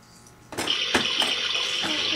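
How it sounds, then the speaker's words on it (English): A child washes hands under a running tap as water streams steadily into a sink, close and continuous, with splashy bursts as the hands rub and move through the flow. "Top and bottom, in between, rub your hands together, they're all clean."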